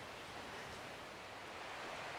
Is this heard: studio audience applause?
no